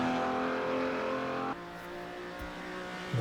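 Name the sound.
Ferrari car engine in Assetto Corsa video game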